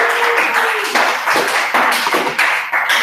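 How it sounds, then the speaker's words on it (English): An audience at an information session claps for a presenter, a steady patter of many hands with uneven bursts, fairly close and on its own without talk. "Maybe give another round of applause to Miss C-Lane Wilson for a great presentation"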